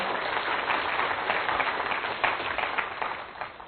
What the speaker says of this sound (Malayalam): കൈയടിച്ച് കർത്താവിനെ മഹത്വപ്പെടുത്താം